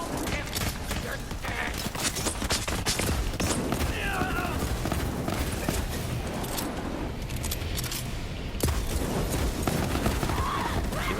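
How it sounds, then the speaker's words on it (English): Rapid pistol fire and explosive blasts from the video game Borderlands 3 crackle densely throughout, with someone talking over the continuous combat. "blow him up with this badass pistol."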